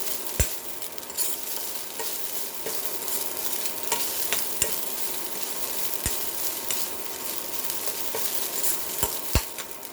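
Grated coconut roasting in a pan for bitter gourd chutney, with a continuous dry sizzle under steady stirring and sharp scrapes of the spoon against the pan at irregular intervals, close up and without talk.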